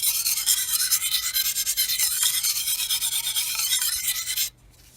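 Close, loud, steady rasping as an 8670M steel knife blade is stroked on a DMT extra coarse diamond plate, continuous for about four and a half seconds, then stopping abruptly.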